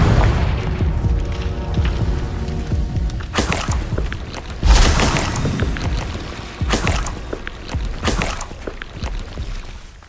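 Confringo fire-spell explosions in Hogwarts Legacy: several heavy booms land at irregular intervals over a steady rumbling, roaring background.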